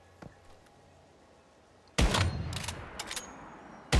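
A sharp, close gunshot from the survival shooter Once Human cracks suddenly after near-silence, followed by a rough echoing tail and a few quicker follow-up bangs.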